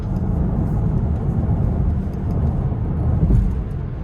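A 2026 Cadillac Optiq Luxury, rear-wheel-drive, accelerating on a test drive, heard from inside as a smooth, steady low rumble of road and drivetrain noise that swells slightly near the end, with no one talking.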